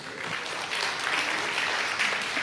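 An audience applauds during a sermon by Ps. Daud Tony, a short, steady burst of clapping at moderate level with no clear break.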